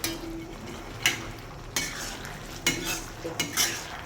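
Manchurian balls are stirred in a pan over a high flame, giving a soft sizzle under several sharp scrapes and clinks of a spoon against the metal at irregular intervals, close by and with no talking.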